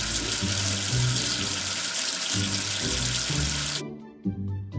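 Tap water runs steadily into a sink for washing, a loud, continuous splashing rush that cuts off abruptly near the end, leaving faint drips; gentle music plays underneath throughout.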